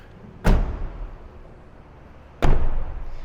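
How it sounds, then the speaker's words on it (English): Two solid, muffled thuds about two seconds apart as the soundproofed doors of a Toyota FJ Cruiser are shut, each a short dull slam close by with quiet between. "So I just want you to hear what it sounds like when I close my doors because it's really good."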